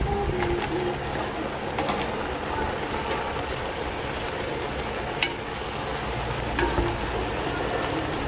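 Sausage sizzles steadily in a pot for Polish hunter's stew (bigos), a continuous close frying hiss with a few soft clinks and stirring scrapes, no talking.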